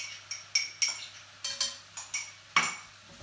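A utensil stirs minced garlic and spices frying in a pan for a Moroccan stew, making a series of sharp scraping clinks against the metal about every third of a second over a faint sizzle.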